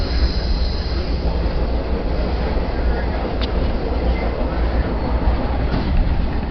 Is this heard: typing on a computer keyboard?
no